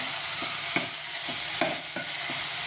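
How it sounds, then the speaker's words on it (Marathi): Red chili powder and garam masala being stirred into dal khichdi in a hot pan, a constant loud sizzle with a few light scraping strokes of the spoon. "अशा प्रकारे हे सर्व मिक्स करून घ्यायचं आहे."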